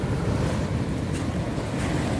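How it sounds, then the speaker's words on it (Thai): Sea waves on the beach at Ban Krut wash in a continuous, loud roar of surf mixed with gusting wind noise across the microphone, with no talking. "ทะเลเปลี่ยนไปเยอะเลยนะคะ ขึ้นแรงแล้วก็ เนินทรายสูง"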